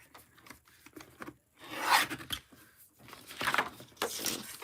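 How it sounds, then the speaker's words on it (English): Photo trimmer cutting paper, a few short rasping slides of the blade across the sheet, close and quiet, with brief gaps between strokes. "I'm just gonna grab my little photo trimmer here."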